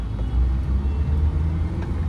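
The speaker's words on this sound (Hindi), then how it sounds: "हल्का सा एक्सीलेटर लेके मैंने सेकंड गियर डाल दिया" A car driving in city traffic gives a steady low engine and road rumble from inside the cabin as it pulls away and moves into second gear, with no distinct shift audible.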